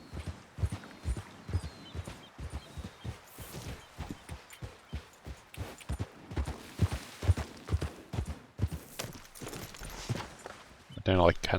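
Horse hooves clip-clop in a steady walking rhythm in Red Dead Redemption 2, close and clear, while someone talks over the steps.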